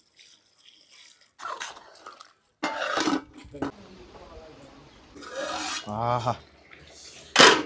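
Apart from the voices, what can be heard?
layer chicken curry (kodi pulusu) boiling in a pot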